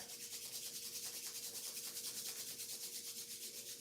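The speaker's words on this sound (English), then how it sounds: "let's take our hands and rub our hands together" Hands rub together in a steady back-and-forth rhythm, a soft close swishing friction repeated at an even pace, quiet and without voices.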